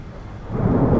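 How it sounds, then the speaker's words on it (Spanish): Thunder rumbles low and heavy, swelling louder toward the end of a brief moment, with a rain-like hiss beneath and no talk. "desde que se produce el relámpago y hasta que se escucha el trueno"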